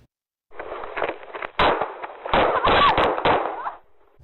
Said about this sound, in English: Los Angeles police released body cam footage of a shootout between two officers and a suspect